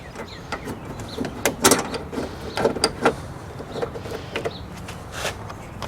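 A 10mm bolt being worked out of car trim on a Pontiac Vibe / Toyota Matrix, with scattered metallic clicks, taps and rattles up close over a quiet background and no talking.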